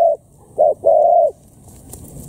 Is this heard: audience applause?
no